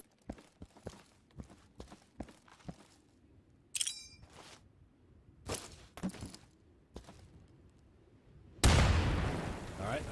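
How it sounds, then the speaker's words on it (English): A frag grenade in the tactical shooter Insurgency lands after a run of footsteps and scattered clicks, then goes off as one loud, sudden explosion near the end, its roar trailing off over the last second. "Yeah, throw a frag in there."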